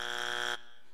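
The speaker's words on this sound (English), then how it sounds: "Forgot about the buzzer." A buzzer during a church sermon, one loud harsh electronic tone that holds steady for about half a second and then cuts off abruptly into quiet.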